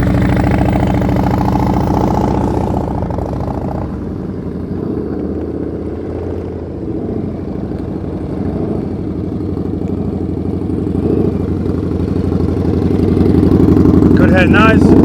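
Motorcycle engine idling low and steady during slow-speed riding practice in New Jersey, a continuous mid-low drone with a coach talking over it throughout.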